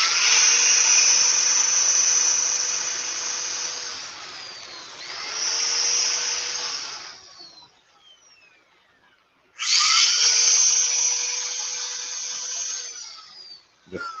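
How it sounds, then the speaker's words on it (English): A high-pitched power tool whines steadily while sanding black walnut on a woodturning lathe, cutting out briefly and starting up again, its tone dropping slightly as it winds down. "Just sanding down the high CA point."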